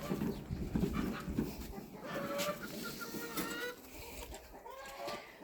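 Farmyard geese honk and cry near a wheelbarrow of cut grass while other poultry cluck. The calls are loud, repeated and overlapping at close range, with a busy mix of bird voices throughout.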